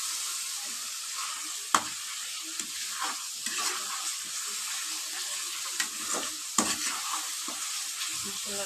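Steady soft sizzling of masala frying in oil, with occasional stirring taps and scrapes of a spoon in the pan; no speech.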